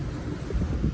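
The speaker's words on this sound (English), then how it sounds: "as you can see in Aruba, it's always very windy" Steady wind buffeting the microphone on a patio in Aruba, a continuous low rumbling roar with gusty swells.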